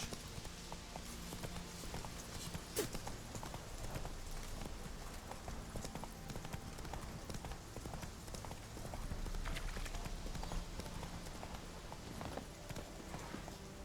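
Roach, a horse in The Witcher 3, trots along with a continuous rhythmic clip-clop of hooves over a busy game soundscape, with a brief sharp hit near the start.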